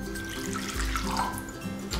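Very warm water pours from a tap into a bowl holding borax, a steady splashing and running stream close by, with no talking.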